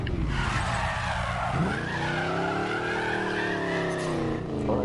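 Koenigsegg Regera supercar tires squealing and skidding under braking in Need for Speed Payback, with a loud continuous screech that rises and falls in pitch over the engine drone.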